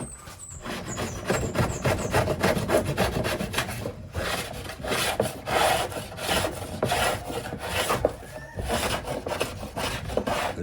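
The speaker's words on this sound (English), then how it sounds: "the trick to this thing is getting it adjusted just exactly so it shaves off just the perfect amount of wood." A hand tool, adjusted to take off a fine amount, shaves wood in repeated rasping strokes, rhythmic and close, each pass a scraping rub with brief pauses between.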